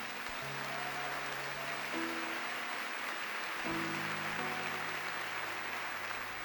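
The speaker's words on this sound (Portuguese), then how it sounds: "Quem vai aplaudir forte a Jesus por isso?" A church congregation applauds loudly and steadily after a sermon, a dense continuous wash of clapping with low sustained musical tones underneath.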